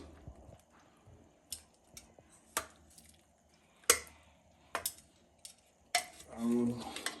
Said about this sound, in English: So you have to remove all vegetables from the pressure cooker